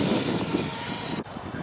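An RC aircraft's electric motor is throttled up into a loud, steady whirring roar that stays strong throughout, with one brief dip near the end.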